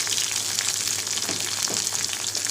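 Onion, tomato and garlic fry in a pan for shahi paneer, giving a loud, steady, close sizzle with faint stirring scrapes and no talking.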